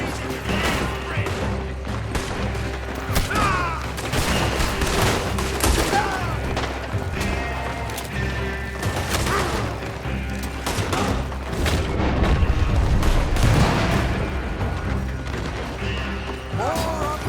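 Rapid gunfire and booming shots crackle through a shootout in Red Dead Redemption 2, dense volleys continuing nearly without pause while voices shout over the din.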